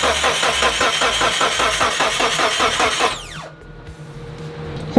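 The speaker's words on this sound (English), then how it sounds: "I'm gonna try to start it now." A Mitsubishi Evo 8 engine cranks on its starter after sitting for five years, a rapid rhythmic churning whir for about three seconds that winds down without firing, followed by quiet.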